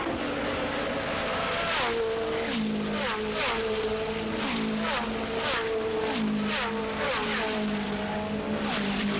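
Indianapolis 500 race cars roar past in a pack, engine notes rising and falling as one car after another sweeps by at steady loudness, with no voices over them.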